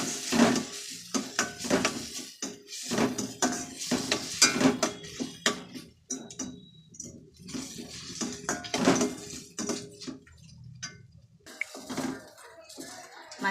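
Masala with chilli and cumin powder is sautéed and stirred in a pan for egg rice. A spoon scrapes and clanks against the pan in irregular bursts over a soft sizzle, with quiet gaps between strokes.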